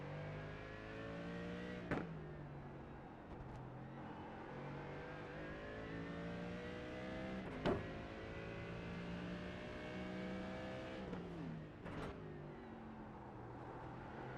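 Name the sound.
GT3 race cars at Long Beach in a racing video game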